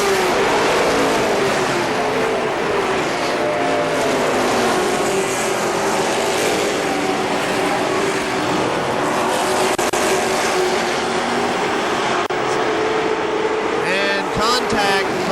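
Race cars roar down the front straightaway of a local oval speedway, a loud continuous engine drone with passing pitch shifts and a sweep of cars going by near the end, under a track announcer's commentary.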